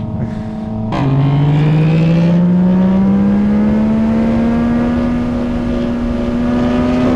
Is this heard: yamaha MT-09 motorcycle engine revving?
yes